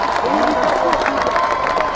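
A crowd at a street rally for justice claps and cheers, a steady roar of applause with shouting voices rising above it, loud and close throughout.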